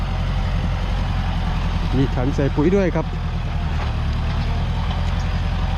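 A Kubota L4708 high-wheel tractor on 120/180 tires with a weed-clearing attachment idles with a steady low diesel throb, while someone talks briefly over it.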